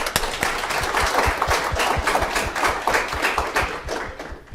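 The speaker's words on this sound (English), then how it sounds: "I just want to start out giving you all another round of applause." Audience applauds a panel discussion on mobile technology in emerging markets, a steady round of dense clapping heard alone at moderate volume for several seconds.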